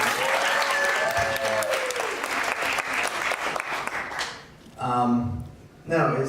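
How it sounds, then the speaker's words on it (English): An audience at a horror film Q&A bursts into loud, sustained applause and cheering for the filmmaker's mother, with a burst of talk mixed in at first, then two short swells of clapping after a brief lull. "Give her a round of applause."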